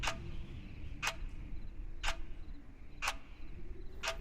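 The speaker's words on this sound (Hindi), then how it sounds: "घड़ी की टिक टिक फिर सुनाई देने लगती है।" A clock ticks steadily, one sharp tick about every second, over a low rumbling background hum.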